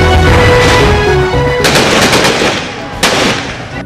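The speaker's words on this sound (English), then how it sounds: "Gunshots rent the air in Ruwaga division as police clash with residents over a KCCA eviction exercise" Rapid bursts of gunfire crack out loud and close during a police clash with residents over an eviction in Kampala's Rubaga division, with a dense volley followed by a sharp later shot amid crowd noise.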